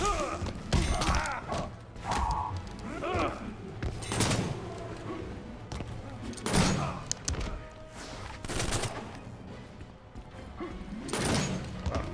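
Gunfire from a PlayStation 4 video game cracks out in irregular bursts and single sharp shots, mixed with mechanical clanks and thuds at a moderate, busy level, with a voice occasionally talking underneath.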